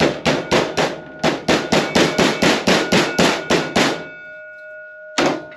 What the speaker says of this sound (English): I usually take the hammer again just to get it square.